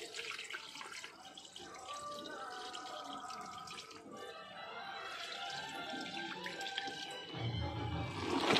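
Soaked black gram (biri kalai) lentils are washed by hand in water, with steady close-up sloshing, swishing and dripping that grows louder near the end.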